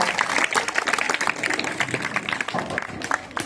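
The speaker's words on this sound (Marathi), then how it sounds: "सर्वांसाठी जोरदार टाळ्या" A group claps for a winning team at a primary school gathering, with a short burst of dense, close applause that carries on steadily before fading.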